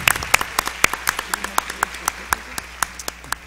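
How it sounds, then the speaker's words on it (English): A thin audience at a school board meeting claps scattered, uneven hands together, close and moderately loud, with sharp individual claps rather than a dense roar, and some murmuring underneath. "So we'd like to give her a round of applause."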